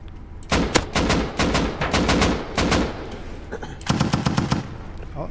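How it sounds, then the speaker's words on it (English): Heavy autocannon fire from a Bradley APC in the survival game Rust, delivered as several loud rapid bursts with short gaps, explosive and close amid a chaotic raid. "Bradley shooting somebody here."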